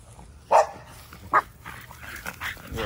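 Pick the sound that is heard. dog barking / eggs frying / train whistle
dog barking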